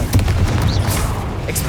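Confringo spell blasts in the video game Hogwarts Legacy, a run of booming bursts and pops layered under a speaking voice, loud and close throughout.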